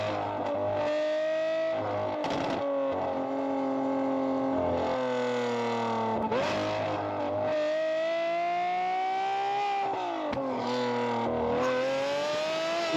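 Lamborghini Aventador Ultimae with a valved Valvetronic exhaust revs repeatedly, its harmonic engine note rising and falling in loud bursts, with sharp pops and crackles between revs, close and alone.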